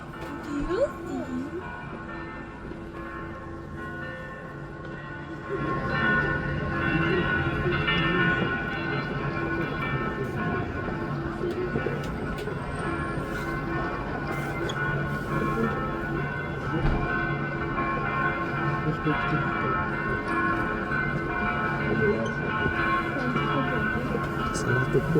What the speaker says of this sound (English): I think three or more churches are ringing bells at the same time.